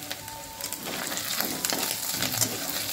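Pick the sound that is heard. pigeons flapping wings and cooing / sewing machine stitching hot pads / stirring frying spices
stirring frying spices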